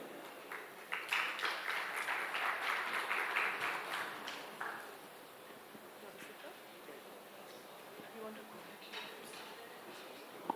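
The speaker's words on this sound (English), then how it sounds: "A big round of applause for Dr. Hirofumi for leading the session." An audience applauds for a session chair at a One Health animal disease management conference, sustained clapping that swells early, then fades into a low murmur of room noise.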